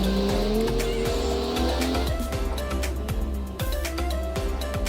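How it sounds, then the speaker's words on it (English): Car tyres scrape and squeal on the track in a driving video game, a loud continuous screech over engine drone, with rhythmic thumps running through it. "a lot of scraping there"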